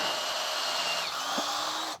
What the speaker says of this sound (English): we're gonna take our drill with our drill bit, and we're gonna just drill